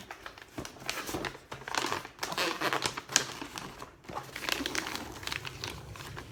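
Christmas wrapping paper crinkles and crackles as a gift is folded and creased, in close, uneven bursts with short pauses between handlings.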